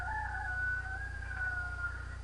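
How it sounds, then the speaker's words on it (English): Rooster crowing inside an evening chicken coop, one drawn-out crow lasting about two seconds over a steady low mechanical hum, clear but moderately faint. "There's the rooster."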